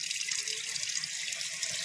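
Tap water running steadily into a sink while frozen chicken is washed, a constant close hiss of flowing water with no speech.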